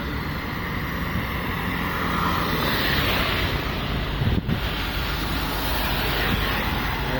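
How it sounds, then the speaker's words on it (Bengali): Heavy rain pours down outdoors during a motorbike ride, a constant loud roar of rain and wind buffeting the microphone with no break. "এখানে বৃষ্টি, তুমুল বৃষ্টি, আমরা যাইতে পারতেছি না।"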